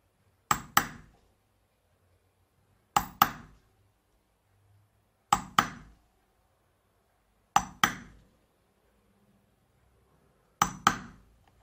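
A hammer strikes a punch into leather while making a coin wallet, sharp paired knocks repeated five times at roughly two-second intervals, close and crisp with quiet gaps between.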